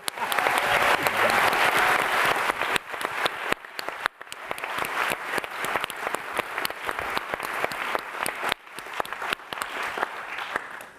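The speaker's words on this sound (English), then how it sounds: "Now we're going to clap." Lecture hall audience applauding, a thick burst of clapping that starts loud and full, then thins a little but keeps going for about eleven seconds with scattered sharper claps.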